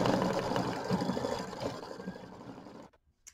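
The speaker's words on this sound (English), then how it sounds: "it's going to do the satin stitch on his beard" Embroidery sewing machine running a satin stitch, a fast steady mechanical whirring and rattling at close range that stops abruptly near the end, no speech.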